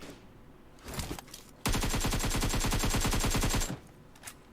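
Rapid automatic gunfire from a video game plays as one sustained burst of about two seconds, loud and close, after a few softer scattered shots, with no talk over it.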